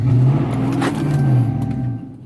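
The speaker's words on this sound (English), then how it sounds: "From there, you're gonna give it accelerator." Ram truck engine revving hard with the line lock engaged, a loud steady low roar that swells, dips slightly and surges again over about two seconds.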